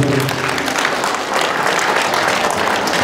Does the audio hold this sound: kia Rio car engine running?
no